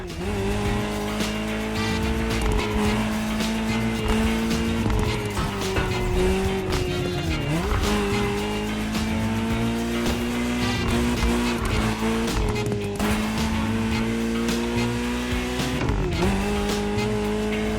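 A Ferrari 308 GTS in The Crew Motorfest racing game, its engine loud and continuous throughout, with gear-change dips and repeated tire squeal and skidding, and no talk over it.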